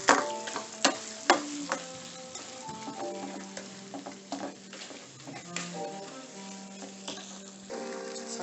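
Garlic sizzles in a pan on turned-down heat while being prepared for salmon Wellington, a soft steady crackle broken by occasional clinks and stirring knocks of a utensil.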